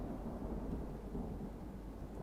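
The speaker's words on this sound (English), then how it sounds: "Dramatic with the rain." Thunder and rain roll through a video game battle, a continuous low rumble with a dense wash of rainfall and no speech.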